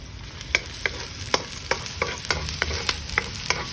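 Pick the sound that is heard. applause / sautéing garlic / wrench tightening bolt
sautéing garlic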